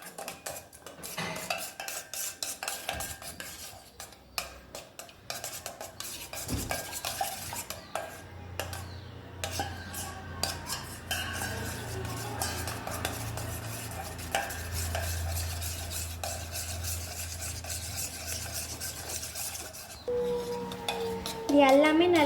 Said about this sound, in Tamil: இந்த மாதிரி நெய் போட்டதுக்கப்புறம் இது எல்லாத்தையும் நல்லா மிக்ஸ் பண்ணிக்கோங்க.